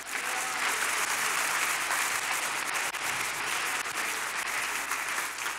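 Church congregation applauding in praise of the Lord, a steady, dense wash of clapping from a large crowd that holds at an even level from start to finish.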